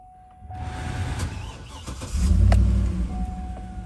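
GMC Yukon Denali engine turns over and catches, a low idle rumble that swells near the middle and settles into a steady close running hum.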